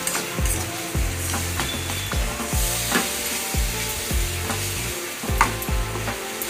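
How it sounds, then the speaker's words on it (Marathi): Egg masala sautéing in a pan, a steady sizzle and fry with repeated rhythmic scrapes and stirs of a spatula, close and alone without voices. "परतून घ्यायचं आहे चांगलं"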